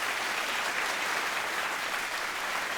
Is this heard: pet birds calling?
no